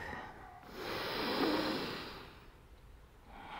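One long, slow breath in a yoga flow swells and fades over a few seconds, close and airy, with no talking.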